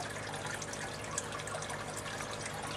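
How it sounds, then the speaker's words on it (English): Steady water pouring into an aquaponics fish barrel holding three fish, a constant rushing trickle with a faint electrical hum beneath, no talking. "So these fish have got some more fresh water coming in."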